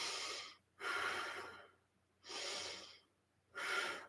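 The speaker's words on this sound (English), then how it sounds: "Inhale nose, exhale mouth." Slow yoga breathing, in through the nose and out through the mouth: three long, soft, airy breaths close to the microphone, each about a second, with quiet pauses between them.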